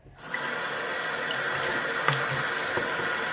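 Steady running water from a tap rinsing a dirty rock tumbler sifter, a continuous close hiss that swells in after a brief silent start and carries on unbroken, with faint clinks within the flow.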